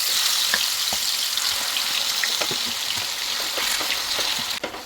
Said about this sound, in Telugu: మనం మ్యారినేషన్ చేసి పెట్టుకున్న చికెన్ కూడా వేసేసుకోవాలి.